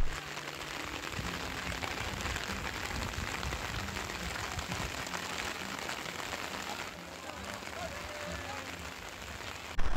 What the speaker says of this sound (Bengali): দেখো আরও মুষলধারে বৃষ্টি চলে আসলো।